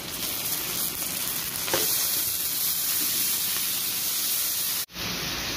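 Chopped tomato goes into a hot pan of fried ginger, garlic, cumin and dried chili paste, giving a loud, steady hissing sizzle with faint stirring scrapes, cut off abruptly near the end.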